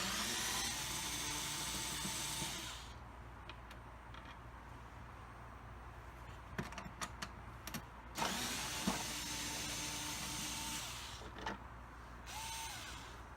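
A power screwdriver backs out the rear screws of an E-100 electric scooter, with three sustained whirring bursts and quieter handling clicks and taps between them, close and fairly loud.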